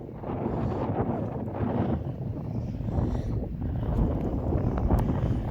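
Steady wind gusting and buffeting across a wide beach at Morecambe on a sunny, chilly day, a continuous loud rumble with no talk.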